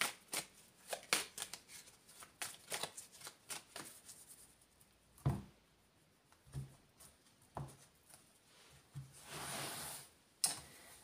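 Oracle cards are shuffled by hand, a run of quiet, close riffles and soft slaps in irregular bursts, with a longer flurry near the end and no speech.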